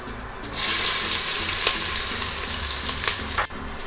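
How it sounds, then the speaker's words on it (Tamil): Steady, loud sizzling of onions frying in a hot pan with curry leaves and green chillies for vegetable biryani, with occasional stirring scrapes and no talking. "வெங்காயம் நல்லா வதங்கிடுச்சு."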